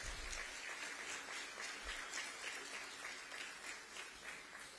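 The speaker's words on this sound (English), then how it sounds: "may you please give Dr. C. Patrick Burrows a round of applause" An audience at a talk on Liberia's economic future applauds for Dr. C. Patrick Burrows, a steady, even sheet of clapping heard faintly and at a distance.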